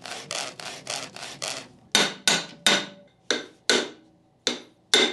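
Creality CR-M4 3D printer with its Y-axis belt scratching as the bed travels back and forth, heard as a rhythmic series of sharp rasping bursts, faster at first then spaced about half a second apart, close and clear with no talk.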